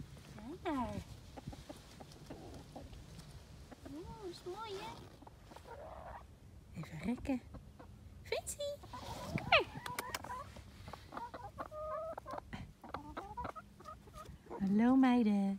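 A newly arrived rooster and backyard hens cluck and call intermittently at close range, mostly mixed under people talking, with a louder burst near the end.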